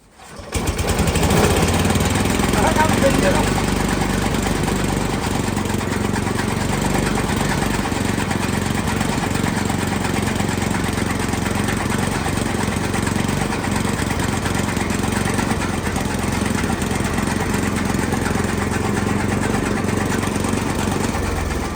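Small engine fitted to a fodder-cutting machine runs steadily and loudly throughout, a continuous droning hum with no pauses and no voices over it.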